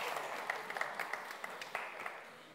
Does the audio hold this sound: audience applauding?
yes